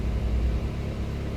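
A 2010 Honda CR-V engine with a lean fuel condition idles steadily, a low continuous rumble with no revving and no voices.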